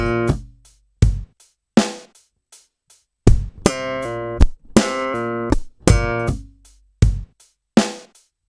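Slap bass line on a bass guitar combining muted slaps, pull-offs and left-hand slaps. Sparse plucked hits give way to busier repeated phrases, played solo, near and punchy, with no voices.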